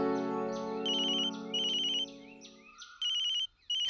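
A mobile phone ringtone sounds for an incoming call, a sustained musical chord giving way to bright repeating electronic beeps in short bursts, loud and close with no talking.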